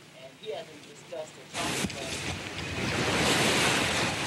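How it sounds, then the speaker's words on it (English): Wind-churned waves pound the shore of Lake St. Clair in Macomb County during a November windstorm. A voice speaks briefly, then loud roaring surf and gusting wind take over and build steadily. "the winds churned up a lot of angry waves"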